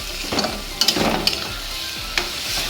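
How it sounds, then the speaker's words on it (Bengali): Leaves stirred in a frying pan with a little salt and turmeric, a steady close sizzle broken by several sharp scraping strokes of the spatula, with no voices. "পাতাটা ভাজতে থাকি, নাড়াতে নাড়াতে এরকম করে নাড়াতেই থাকবো"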